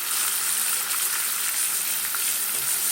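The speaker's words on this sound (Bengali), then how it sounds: "মাংসটাকে ভেজে নেব, ভাজলে টেস্টটা ভালো আসবে।" Chicken pieces frying in a hot pan give off a dense, constant, loud sizzle that holds evenly from start to finish, heard up close with no voices.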